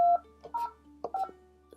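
A Polycom VVX 501 desk phone sounds a steady dial tone, then a quick series of keypad tones as a number is entered, each beep short and clear with brief gaps between presses.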